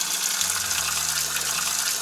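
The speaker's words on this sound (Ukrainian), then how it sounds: "Ось таке джерельце, лабрянка, джерело." A small mountain spring in a forest flows steadily, giving a close, continuous trickling and gushing of water with no voices.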